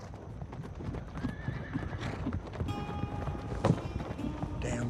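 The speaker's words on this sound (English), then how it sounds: "Damn horses. They're getting worse." Horses clopping and running nearby, with repeated neighs and whinnies rising over a busy, continuous rumble of hooves and movement.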